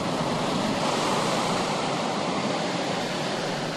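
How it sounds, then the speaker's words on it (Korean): A continuous, loud roar of ocean surf on Christmas Island, waves rushing and breaking nearby with wind noise mixed in. "거친 파도에 한순간 휩쓸리지만"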